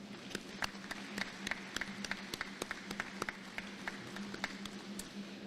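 Sparse, evenly spaced claps ring out from an audience at a military change of command ceremony, a modest round of individual hand claps over a low steady hum.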